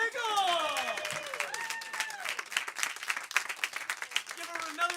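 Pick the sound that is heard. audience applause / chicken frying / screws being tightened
audience applause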